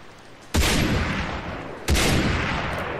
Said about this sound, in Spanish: Dos disparos certeros de francotirador